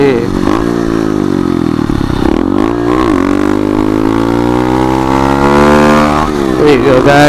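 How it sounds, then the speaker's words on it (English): Pit bike engine revving hard during a wheelie, a loud, close, buzzing whine whose pitch climbs and dips through throttle changes, with a brief drop partway through. "That was a good last wheelie."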